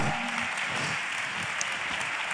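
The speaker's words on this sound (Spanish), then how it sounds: "Un aplauso para su majestad" Applause for her majesty in a theatre scene, a steady wash of clapping that holds at an even level for its whole short length.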